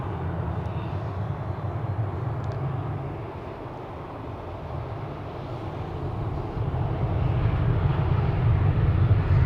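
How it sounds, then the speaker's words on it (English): A KLM airliner departing Amsterdam Schiphol, a low rumbling jet roar at moderate distance that swells louder toward the end, steady with no voices. "KLM flight 569 to Kilimanjaro is coming this way."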